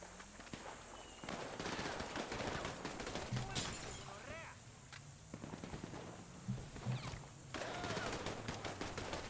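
Gunfire in a roleplay video game: sharp shots and bursts crackle through most of the stretch amid game noise and movement, with people talking over it.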